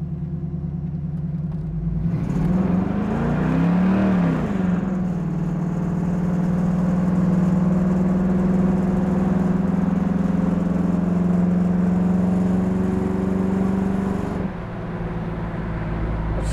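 A 1968 Chevrolet Camaro SS driving on the road, its engine rising in a steady drone, revving up and then holding a sustained cruising hum before easing off near the end.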